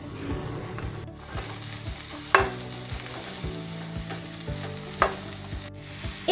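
Mixed vegetables, peas and two chillies sauté in a pan for noodle soup, a continuous close sizzle with occasional sharp clinks of the spoon against the pan and no voices.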